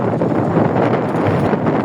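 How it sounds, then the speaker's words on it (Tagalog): Loud, blustery wind buffets the microphone continuously, a rough roaring rush with no voices. "Sarap ng hangin"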